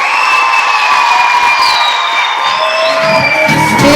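An audience at a primary school Year 1 presentation in Nairobi cheers and whoops for young children, a loud, sustained crowd roar with high voices and shouts filling the whole stretch.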